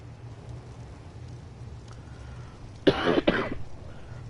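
Somebody coughs in a quick burst of two or three harsh coughs near the end, after a stretch of quiet background hum.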